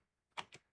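Two quick keyboard keystrokes, sharp clicks in close succession, faint and brief against near silence.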